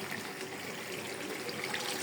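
Water poured from a vessel into a pot of browned chicken curry cooking with garlic and cumin, a steady soft trickle and splash lasting throughout, fairly faint and even with no talk.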